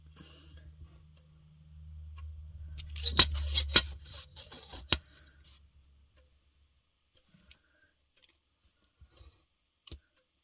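Scissors cut a small paper foot shape while making a Christmas shaker card, giving a quiet cluster of crisp snips in the middle, then a few sparse clicks near the end.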